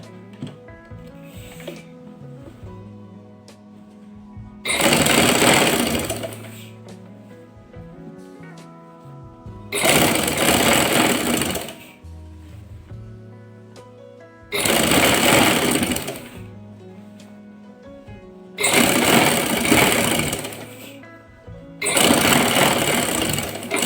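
Sewing machine running in loud bursts of a few seconds each, stitching along a folded trouser hem, with quieter pauses and handling between runs, no talk over the stitching.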